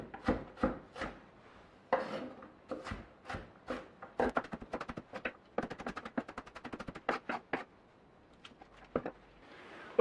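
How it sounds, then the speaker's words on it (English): A knife chops an onion rapidly on a cutting board, a series of crisp, close taps in quick bursts with brief pauses between runs. "And now we can chop or dice our onion."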